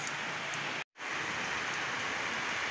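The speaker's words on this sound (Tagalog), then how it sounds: "So, buti na lang po umulan siya." Steady rain falls and patters on surfaces around a house, a dense even hiss that cuts out for a moment and then returns at full strength.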